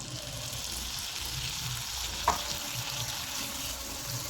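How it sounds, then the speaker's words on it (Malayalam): Boiled raw plantain added to a pan of softened onions for thoran, frying with a soft, steady sizzle and one faint clink, no talk. "ഉള്ളി ഇവിടെ വാടി വന്നിട്ടുണ്ട്. അതിലേക്ക് നമുക്ക് വേവിച്ച് വെച്ച പച്ചക്കായ ഇട്ട് കൊടുക്കാം."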